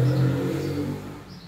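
Motorbikes going by outside a home: a brief low engine drone and revving whir that fades, heard indoors at moderate distance.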